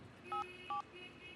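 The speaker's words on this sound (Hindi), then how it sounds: "चल एमडी को फोन लगा।" Two short, clear telephone keypad dialing tones beep one after another, evenly spaced, during a phone call scene in a Hindi action thriller film, over faint background hum.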